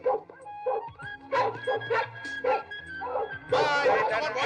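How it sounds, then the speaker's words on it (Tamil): A newly acquired dog barks and yips repeatedly in short, loud bursts while straining against its leash, with voices talking over it. "புது நாய் இழுக்குது, யாருக்கு கட்டுப்பட மாட்டேங்குது"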